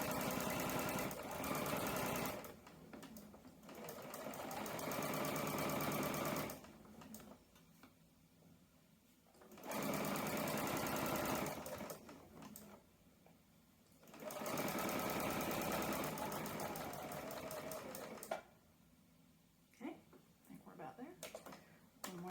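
A sewing machine stitches a quilted door banner in several long bursts, its steady motor whir pausing between runs while a person talks over and between the stitching.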